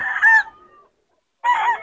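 Roosters crowing at a Bocaue market, two loud close calls separated by a short silence, the first trailing off into a fading tail.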